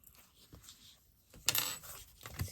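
A metal zipper pull is fitted onto a fabric poop bag holder, giving a few faint clicks and then one brighter metallic clink, close and quiet, with no voices.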